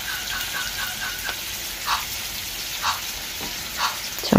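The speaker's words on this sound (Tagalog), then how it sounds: "So, gisa lang yung meat." Pork butt sautés in a hot pan for dinuguan, giving a steady close sizzle broken by soft, regular bursts of stirring that recur every second or so.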